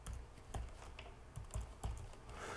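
A password being typed on a computer keyboard: a quiet, irregular run of light key clicks and taps, close and alone with no talking.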